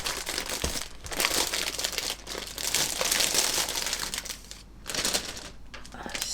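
A resealable plastic packet from a 1/72 Arma Hobby Curtiss H75 model kit crinkles and rustles continuously near the listener, with brief dips between bursts of handling.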